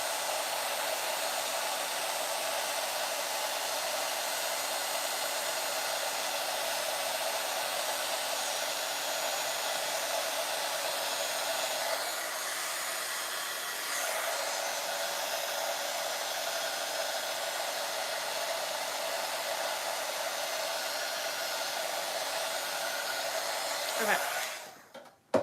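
Heat embossing tool blowing hot air over a journal page, a steady loud whooshing hum much like a hair dryer running continuously up close, with a brief dip midway before cutting off at the end.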